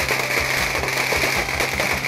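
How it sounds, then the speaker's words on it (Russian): Firecrackers set off by fishermen on Hainan island to celebrate the opening of the fishing season crackle in a rapid, continuous string of sharp pops, loud and close, with no talk. "первый свой выезд рыбаки отмечают взрывами"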